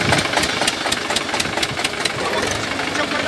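A Balwan 500 tractor engine runs steadily at idle after starting, a continuous loud rumble with rhythmic knocking pulses throughout, with people talking nearby.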